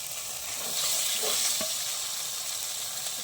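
Masala with cashew and poppy seed paste fries in a pan for a paneer curry, giving a steady, close sizzle with a brief scrape of stirring partway through.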